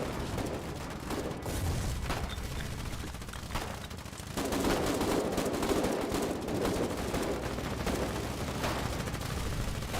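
Gunfire in the war game Foxhole, sustained crackling bursts of rifle and machine-gun shots that continue steadily throughout and grow denser midway.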